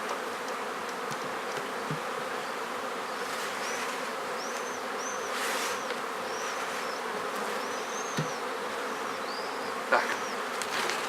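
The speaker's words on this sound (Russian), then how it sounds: "Здесь можно и подымить немножко, чтобы пчелу согнать" Honeybees swarm around an open beehive, a dense continuous buzz at moderate distance with individual bees droning past closer now and then.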